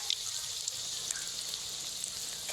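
Tender mango leaf fritters fry in a wok with a soft, steady hiss and sizzle and occasional small pops, quiet and close, with no talk.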